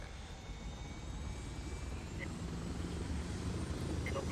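A Chinook helicopter in the Arma 3 video game gives a steady, even rotor and engine drone that holds at the same level throughout.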